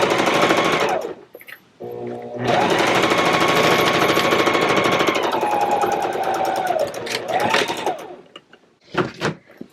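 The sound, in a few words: sewing machine stitching lining of Pokemon book bag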